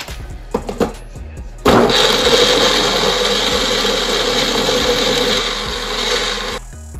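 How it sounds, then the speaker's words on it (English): A blender whirs loudly and steadily for about five seconds, crushing ice in a banana and peanut butter smoothie, starting abruptly after a few soft clicks and then cutting off. "so I'm gonna blend it up."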